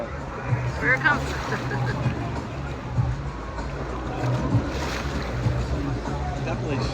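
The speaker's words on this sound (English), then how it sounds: "Definitely stronger. Yeah, the waves. The wave pool." Waves in a wave pool at CocoCay, a private island resort, wash and surge in a continuous churning roar, with people talking and splashing nearby over the water.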